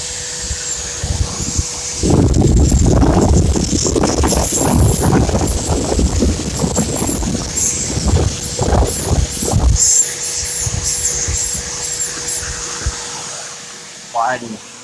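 A Bissell vacuum cleaner runs with its hose attachment, a loud close roar that surges in and cuts off partway through, while a person talks over and after it.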